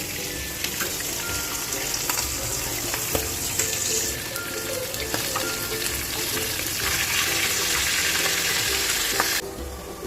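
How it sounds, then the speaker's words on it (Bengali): Fish heads frying in oil in a pan, a steady close sizzle with scattered crackles and spatters that grows a little louder toward the end. "আর মাছের মাথাগুলো ভেজে নিচ্ছি"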